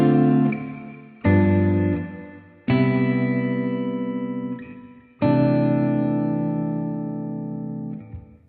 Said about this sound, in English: If we play only the basic 7th chords, it will sound like this.